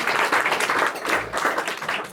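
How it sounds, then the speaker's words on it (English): An audience at a presentation on the book The Gaza Kitchen applauds, a dense, steady wash of clapping that fills the whole stretch at close range. "give a round of applause to all of us"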